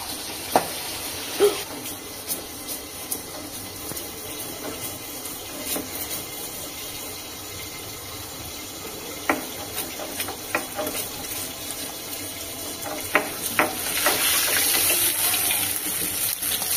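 Parshe fish frying in a pan, a steady soft sizzle with scattered clicks and pops, growing louder and hissier near the end; no voices.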